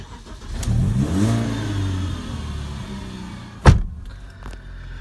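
A BMW car engine cranks and catches, rising into a revving idle up close, then settles to a steady run with a sharp clunk like a door partway through.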